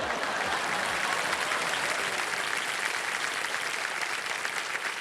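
A game show studio audience claps in a dense, even burst of applause that stays steady and fairly loud for several seconds, with no voice on top.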